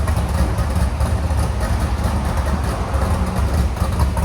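A cammed Chevy Corvette Z06 with a 7.0L V8, headers and a Corsa Sport exhaust idles steadily, a deep, loud, rumbling low-end drone with a slightly uneven lope, heard alone.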